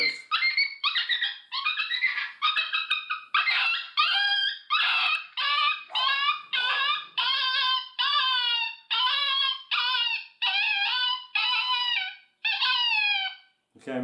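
Dogs howling and yipping in rising, wavering bursts while a FOXPRO Prowler game caller plays, a long run of repeated wails with short gaps, loud and close, with no talking.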